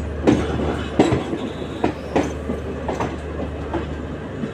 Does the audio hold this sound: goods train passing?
yes